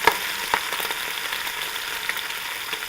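Bacon frying in a pan, a steady dense sizzle and crackle with a few sharper pops, held at an even, fairly close level for the whole stretch with no voices.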